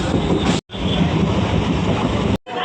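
A crowded passenger train rolls along, a loud, close, continuous roar and rumble from inside a carriage, cut by two brief silent gaps.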